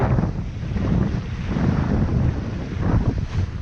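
Strong wind gusts roar and buffet across open water, loud and continuous, with heavy rumbling wind noise on the microphone.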